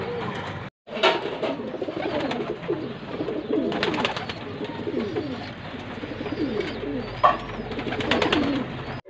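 Several domestic pigeons coo in overlapping, throaty rolls after feeding, close by and continuous, with a few brief flutters and thumps mixed in.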